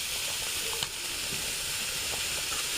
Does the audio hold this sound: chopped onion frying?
yes